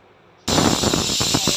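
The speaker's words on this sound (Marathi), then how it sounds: "शिट्टी झाली," A pressure cooker of khichdi with dal and water lets out a sudden, loud, sustained steam whistle that bursts in after a brief quiet moment and keeps hissing steadily to the end.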